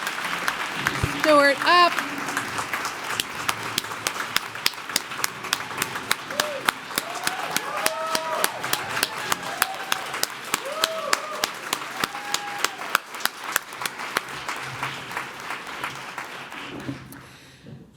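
Audience at the opening night of the Joan & Edgar Booth Theatre at Boston University applauds donors in a long, steady round of clapping that fills the hall, with scattered cheers and voices mixed in before it fades.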